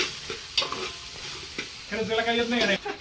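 Curry masala for chicken gravy being stirred and roasted in a pan, steady scraping and soft sizzling with a couple of sharp knocks, close and moderately loud, with a brief tonal squeal near the end.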